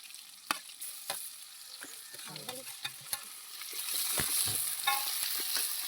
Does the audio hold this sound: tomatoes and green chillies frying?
yes